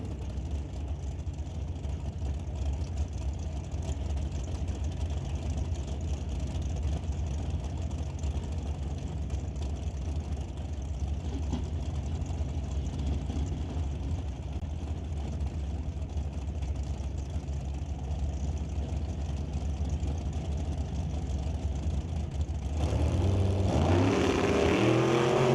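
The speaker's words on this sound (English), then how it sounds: "He squares off against the 582 cubic inch big block Chevy Undercover Dragster of Emily Gerard" A 582 cubic inch big block Chevy dragster engine idles with a deep, steady rumble at a drag strip, then rises sharply as the throttle is blipped near the end.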